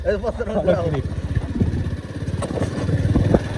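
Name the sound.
Honda double-engine motorcycle riding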